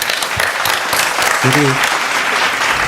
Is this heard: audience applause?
yes